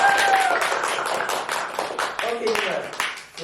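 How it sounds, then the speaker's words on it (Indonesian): An audience claps at an Indonesian agriculture podcast event, a lively patter of hand claps going for a few seconds as a voice speaks over the top. "Beri tepuk tangan yang meriah dulu untuk kami."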